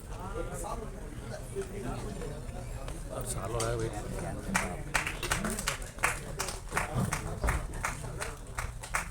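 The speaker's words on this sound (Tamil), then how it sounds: "ஒரு பெரிய கைத்தட்டல் கொடுத்துடலாம்." Audience clapping at a Tamil film trailer and audio launch event, scattered claps building into louder applause as a presenter keeps talking over it.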